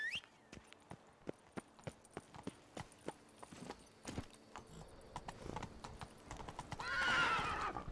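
Geralt's horse Roach in The Witcher video game, with hooves clip-clopping in an even walking rhythm of distinct loud steps, ending in a loud whinny.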